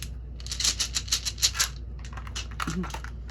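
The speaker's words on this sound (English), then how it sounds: "Let's get y'all some dice. These are going to be loud, okay, guys?" Dice shaken in a hand for a tarot-style reading, a rapid rattling clatter of several quick clicks up close, then softer scattered taps as they settle, with a short voiced sound near the end.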